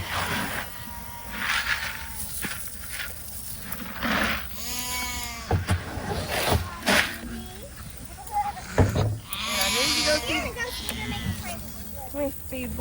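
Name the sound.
goats bleating while being fed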